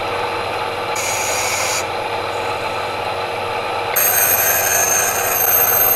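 Valve seat grinding stone being cleaned during valve lapping on an engine build, a continuous whirring rasp with a high whine that switches on and off, steady and close.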